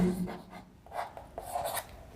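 Handwriting strokes scratch across paper in a few short bursts, close and quiet, with brief gaps between marks.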